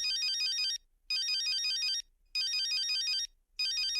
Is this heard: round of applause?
no